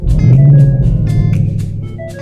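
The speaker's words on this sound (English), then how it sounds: "We're gonna see how this thing sounds." 2024 Ford Mustang GT Premium V8 engine idling close by, a deep low rumble with a brief rise in pitch early on that settles back to a steady idle, with no talk.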